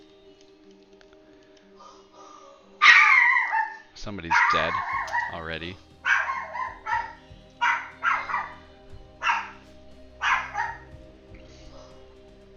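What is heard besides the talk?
dogs barking at workers on the house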